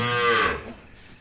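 A single cow moos on a small Brazilian dairy farm, one loud, close, drawn-out call with a harmonic, tonal sound that fades away over about a second, with no talking over it.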